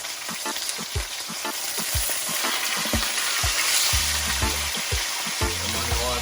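Fish sizzles steadily in hot oil in a frying pan while being prepared for Jamaican brown stew fish, a dense continuous crackle broken by a few soft knocks and scrapes, close and loud with no voices.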